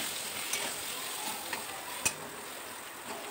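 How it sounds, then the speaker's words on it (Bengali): Eggplant pieces fry in hot oil with a steady, close sizzle, broken by a few sharp ticks from a spatula stirring them in the pan. "বেগুনগুলো খুব ভালো করে একটু ভেজে নেবো নাড়াচাড়া করে।"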